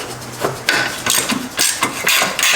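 Hammer blows on a stuck bolt of a 1996 Honda Fourtrax 4x4 ATV: a run of sharp metallic strikes at an irregular, fairly quick rhythm, close and loud, over a faint low background hum.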